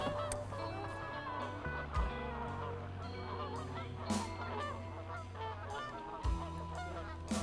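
A flock of geese honks steadily while feeding in a freshly cut field, overlapping calls rising and falling at mid distance with no talk.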